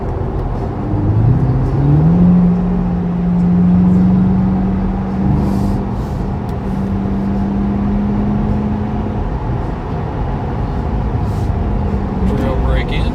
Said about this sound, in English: Trail brake in, downshift, power through the turn.